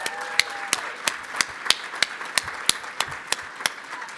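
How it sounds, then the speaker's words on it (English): Sparse, evenly spaced claps at a conference session honoring a parent panel, about a dozen sharp distinct hits in slow rhythm over a quiet room with a faint tone in the background, more like a few people clapping than a full ovation. "give the parent panel another round of applause"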